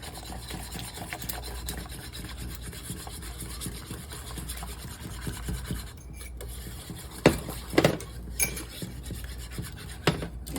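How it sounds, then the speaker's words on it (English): A whisk scrapes and rasps steadily in a pan as heavy cream is worked into a reduced sauce, close and continuous, with a few louder clinks of metal near the end. "whisk it in."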